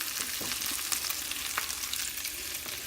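Meatballs frying in a pan give a steady, soft, close sizzle with faint crackles and small pops, continuous and quiet, with no talk.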